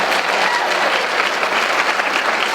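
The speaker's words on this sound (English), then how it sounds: "Give her a round of applause." Steady, dense applause from a seminar audience fills the whole stretch, loud and close with no break or voices over it.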